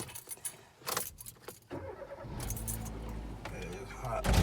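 Keys jangle in a car on a hot day, followed by the engine being started and settling into a low, steady idle that grows louder toward the end, with a voice speaking briefly.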